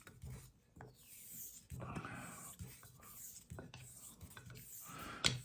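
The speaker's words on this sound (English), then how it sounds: "when you use very harsh stone like that, DMT plate, you have to be careful so you don't damage the razor" A straight razor is honed on a coarse DMT diamond plate, giving quiet rasping strokes in a steady back-and-forth rhythm, close and faint.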